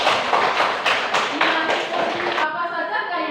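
Applause from a classroom audience in a teacher-training lesson, a dense patter of many hands clapping together that is steady and fairly loud, then breaks off abruptly partway through, leaving faint room noise and a few voices.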